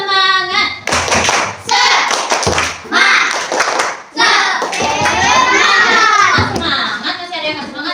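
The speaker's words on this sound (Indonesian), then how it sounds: "ya tepuk semangat dulu untuk meningkatkan semangat kita" A fourth-grade class does a rhythmic spirit clap, bursts of hand claps in patterned groups mixed with children chanting and shouting loudly together, close and lively.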